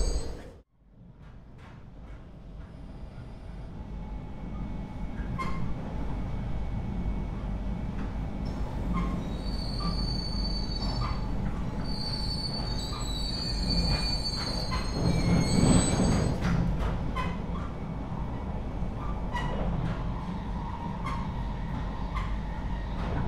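A commuter train in Cities: Skylines rolls through a station with loud, sustained wheel squealing and rumbling wagons, metallic screeches rising and falling over a steady rail drone.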